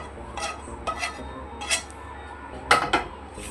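Scattered metal scrapes and clinks from a spoon working a sweet dry-fruit coconut mixture out of a pan onto a plate, a few short bursts spread apart, close and moderately loud.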